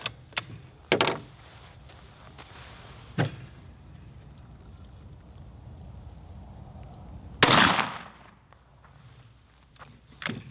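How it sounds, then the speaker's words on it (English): Two or three sharp, loud single shots of ballistic-tip 5.56 rifle rounds in the Gray Zone Warfare video game, spaced apart with quiet gaps between them, the last one the strongest. "So we'll go ahead and shoot the ballistic tip one first."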